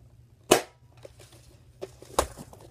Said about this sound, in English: Here's the mag. Put it in.